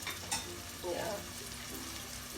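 Ghanaian jollof rice simmering in a pot, a soft continuous sizzle and bubbling with a couple of brief spoon scrapes, close and quiet.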